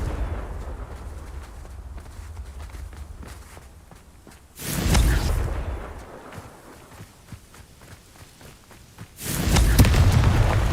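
Two loud Confringo spell blasts go off in the video game Hogwarts Legacy, each a sudden booming burst that rolls on for about a second. Between them come quieter footsteps and soft whooshes.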